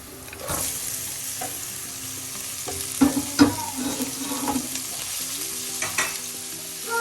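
Violet cabbage stir-fried and tossed in a hot pan, with a steady sizzle and irregular scraping and stirring knocks, a few sharper clatters in the middle, near and alone with no talking.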